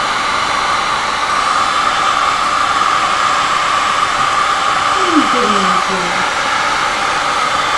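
A heat gun blowing hot air for a smoke-effect ribbon technique on a black background, making a loud, steady, close rushing roar that holds evenly throughout, with a brief voice-like tone near the end.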